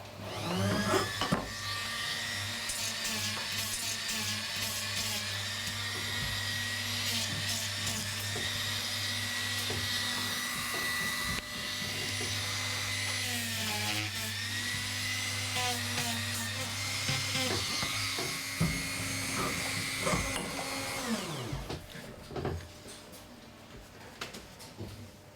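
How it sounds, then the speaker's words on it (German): Machine sanding the edge of shoe upper leather in a shoemaking workshop, a continuous high whirring grind with a low motor hum, shifting slightly in pitch as the leather is worked, then winding down near the end. "Jetzt schleifen wir diesen Kanten, da das Oberleder ist, an"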